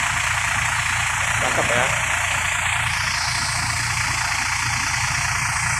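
Ramayana executive bus with Adi Putro bodywork idling: a steady low engine rumble with constant vibration, heard close, while a person briefly speaks over it.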